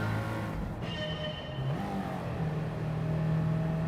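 Race car engine in Gran Turismo 7 revving and shifting through gears, a steady low drone rising and dropping in pitch, fairly quiet with no talking.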